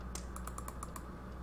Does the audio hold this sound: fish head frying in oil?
no